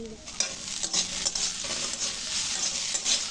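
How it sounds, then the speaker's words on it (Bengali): Small chuno fish frying in a pan, a continuous close sizzle broken by repeated stirring and scraping strokes, with no voices over it. "এইগুলো এখন ভেজে নিচ্ছি"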